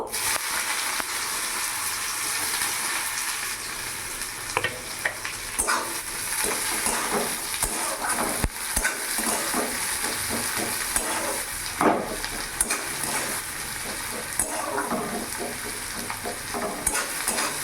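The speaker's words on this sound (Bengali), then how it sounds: "পেঁয়াজটা আমি ততক্ষণ ভাজবো যতক্ষণ কাঁচা গন্ধটা আমার চলে না যায়।" Onions sizzle steadily in a pan, with constant crackling frying and occasional scrapes and clinks of a spatula stirring.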